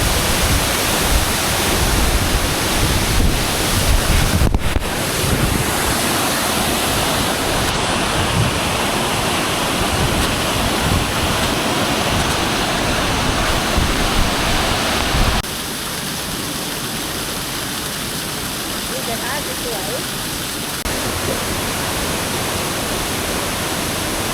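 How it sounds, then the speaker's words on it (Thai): Phang Ngoi waterfall on a forested rocky slope in Isan, Thailand, roars with a steady, loud broadband rush of falling water, easing slightly partway through, with no voices over it. "คือน้ำตกผางอยนะครับผม"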